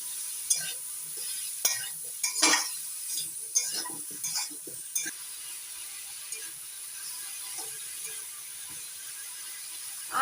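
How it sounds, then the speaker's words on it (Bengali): Potatoes, jackfruit seeds and cut pumpkin stems stirred in a frying pan, with scattered scraping and clinking strokes of a spatula over a faint steady sizzle, busier at first and then thinning out. "এবার দিয়ে দিচ্ছি কেটে ধুয়ে নেওয়া কুমড়োর ডাঁটা, নাড়াচাড়া করে মিশিয়ে নিচ্ছি।"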